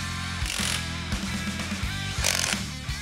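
A power tool runs up close while fastening bolts on a Buick Regal car chassis during a full build, giving a steady whirring drone broken by short ratcheting bursts, with no talking.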